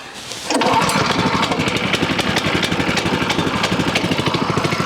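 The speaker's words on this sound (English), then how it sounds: "That is one good starting little motor." A small engine on a Frontier OS18 portable sawmill catches after a brief pull and settles into a loud, steady, rapidly pulsing idle close by.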